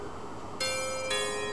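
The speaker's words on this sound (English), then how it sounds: "You have a doorbell in your cave!" A doorbell in the video game Hatoful Boyfriend chimes twice, two clear electronic tones in quick succession ringing out over a steady background hum.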